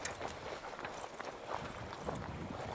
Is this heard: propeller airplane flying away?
no